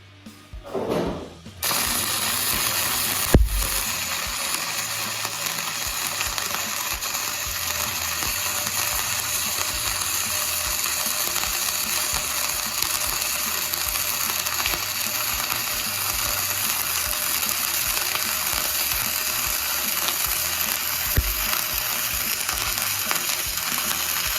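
MMA stick electrode arc welding with a multiprocess inverter welder, laying a filling bead: a steady, loud crackling sizzle that starts after a short opening pop and holds evenly for over twenty seconds, with no talking.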